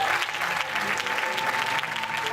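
A church congregation applauds the Lord loudly and steadily, dense clapping filling the space without a break, with faint voices mixed into the crowd.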